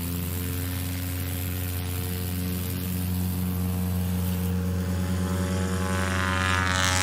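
Light STOL aircraft at a Lonestar STOL practice event, its engine and propeller droning steadily in a strong, even buzz. The drone grows louder and rougher toward the end as the takeoff run builds.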